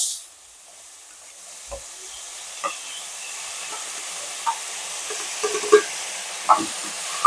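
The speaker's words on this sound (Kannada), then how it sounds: "ಈಗ ಕಟ್ ಮಾಡಿರೋ ಈರುಳ್ಳಿ ಟೊಮೆಟೊ ಹಾಕ್ತಾ ಇದ್ದೀನಿ" Chopped onion and tomato hit hot oil with cumin in a pan, producing a steady sizzle and hiss with a few soft stirring clicks and pops, close and alone without speech.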